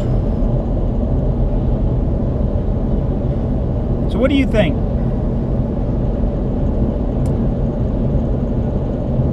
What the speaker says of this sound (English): I'm surrounded by trucks.